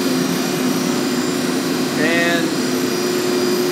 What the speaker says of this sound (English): Since there's four elevators, there's four motor generator sets